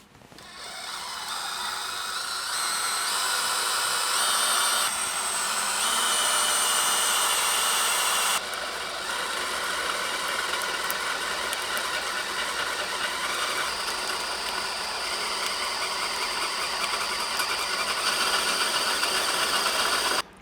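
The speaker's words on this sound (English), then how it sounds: "Now I'm gonna go ahead and start it with the center drill." A center drill starts a hole in a Toyota 4Runner frame for rock slider bolts, giving a steady, loud, close grinding whine that runs nearly unbroken for about twenty seconds, with slight shifts in pitch and load partway through.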